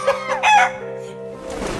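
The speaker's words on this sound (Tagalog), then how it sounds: "Ang tawag sa lahi ng manok na ito ay Jersey Giant" Jersey Giant rooster, a very large chicken breed, crowing once loudly and close, a harsh rising cry that trails off into softer clucking.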